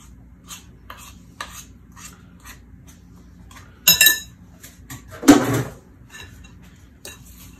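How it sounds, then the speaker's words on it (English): A small spoon stirs thick apple blondie batter with walnuts in a bowl, giving light clinks and scrapes against the sides, with a couple of louder clattering knocks partway through and no talking. "I find it easier to stir with a smaller spoon once I get all this stuff in here"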